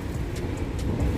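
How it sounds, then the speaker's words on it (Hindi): Heavy rain falls steadily on wet streets in a town market area, a dense continuous hiss with a low rumble beneath and no voices. "काफ़ी ज़्यादा बारिश हो रही है।"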